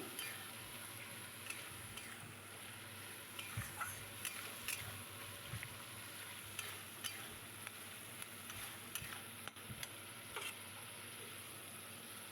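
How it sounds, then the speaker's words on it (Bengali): Spice paste with a large tomato sizzles softly in a pan, stirred with a utensil that gives scattered faint clicks and scrapes against the metal, quiet and steady with no voices. "এবার এখানে একটা বড় টমেটো দিয়ে দিয়েছি। ভালো করে মশলাটা কষিয়ে নিচ্ছি"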